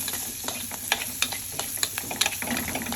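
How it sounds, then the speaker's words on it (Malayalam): Small onions with salt sautéing in a pan, soft sizzling under repeated sharp clicks and scrapes of a spoon stirring against the pan, close and steady with no speech. "അപ്പോൾ ഈ ചെറിയുള്ളിൻ്റെ ഒരു കളർ മാറുന്നവരെ നമുക്ക് വഴറ്റി കൊടുക്കാം"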